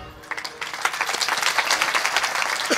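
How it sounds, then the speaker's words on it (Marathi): An audience at a kirtan clapping hands together, a dense, steady burst of applause from many people nearby that swells after a quieter start and continues to the end, with faint voices underneath. "टाळी कशी वाजवायची"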